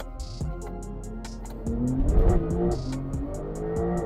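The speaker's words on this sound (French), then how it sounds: "C'est parti pour le 0 à 100." A Porsche 992 Turbo S launches from 0 to 100 km/h, its engine revving up through rapid gear changes with a loud, rising roar heard from inside the car, with no talking.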